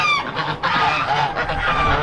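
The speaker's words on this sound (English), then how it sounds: "These are some of the first geese I ever owned, actually." White Chinese geese honk loudly and repeatedly at close range at an Amish animal auction, overlapping calls with other fowl squawks in the background.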